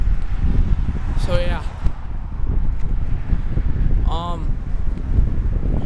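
Strong wind gusts through a neighborhood and buffets the microphone in a constant loud rush, while a person talks briefly over it.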